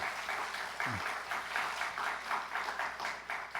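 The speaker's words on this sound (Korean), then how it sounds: "여러분 박수 한번 하겠습니다" Inside a church, the congregation applauds together, a fairly quiet but steady patter of many hands that pulses evenly, with a short low sliding tone cutting in near the start.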